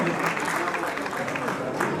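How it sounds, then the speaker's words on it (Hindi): Guests at a farewell and welcome ceremony clap steadily in a thick, continuous wash of applause, with a voice faintly mixed in. "और आदरणीय तालियां बजनी चाहिए देवी सज्जनों"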